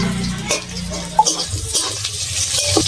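Tomatoes being stirred into frying onions in a pan, with close scraping stir strokes and a soft sizzle underneath, plus a faint clink of utensil on metal.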